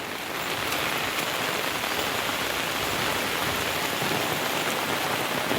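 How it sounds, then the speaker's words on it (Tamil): Heavy rain pours steadily, a dense, loud hiss of drops drumming on surfaces that stays constant throughout with no voices. "சரியான மழை."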